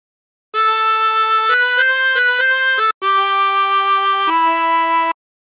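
A 16-hole tremolo harmonica plays a short phrase of Battle Hymn of the Republic, clear wavering sustained notes stepping in pitch, a brief gap, then a few more held notes, alone and close.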